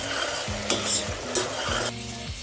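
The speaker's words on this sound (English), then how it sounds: "Add the paste and cook till it leaves the oil." Masala paste frying in oil for mutton Afghani, a steady close sizzle broken by a few scraping stirs of a spoon against the pan.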